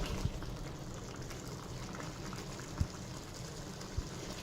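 Mutton karahi meat simmers in a pot on the stove, a low, steady bubbling hiss with occasional soft pops, close and quiet, with no voices.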